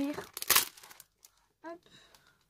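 Paper packaging of Halloween accessories is torn open by hand in one brief, sharp crinkling rip, close up, with a voice speaking just before and soft rustles after.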